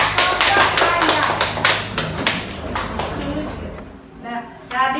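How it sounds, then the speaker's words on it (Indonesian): A classroom of students claps for a student group, a loud burst of close applause that fades over a few seconds, with voices talking over it. "Silakan duduk, tepuk tangan dulu buat kelompok ayam"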